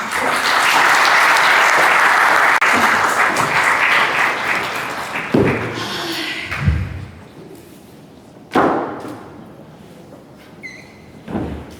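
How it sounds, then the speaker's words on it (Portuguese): An audience gives a full, loud round of applause to welcome a speaker at a book presentation. The applause is sustained for several seconds, then fades into scattered claps and thumps. "Convosco, Maria Mar, uma salva de palmas."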